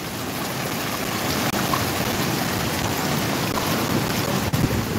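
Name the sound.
storm surge waves crashing at port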